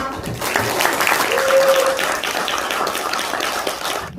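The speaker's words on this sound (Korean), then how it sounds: "창립 총회를 개회 선언을 박수로 하도록 하겠습니다" Guests at the founding general meeting of a social cooperative in Ganghwa clapping to open the session, a sustained round of applause in an indoor hall with a voice briefly heard over it.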